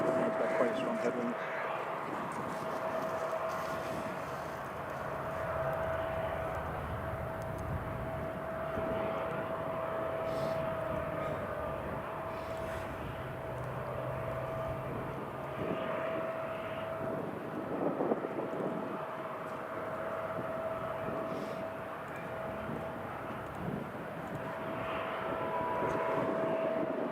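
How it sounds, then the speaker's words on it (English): A Kuwait Air Force C-17 transport on approach to Newcastle International Airport gives a steady, distant jet roar that swells slightly toward the end, heard through wind with someone talking over it. "Got the Q8 Air Force C-17 just coming in now."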